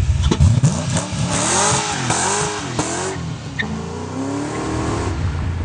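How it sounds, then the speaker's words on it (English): A V8 car engine rumbles and revs, its pitch rising and falling through several throttle blips, close and loud with no talking. "Sounds like a 5-liter Mustang."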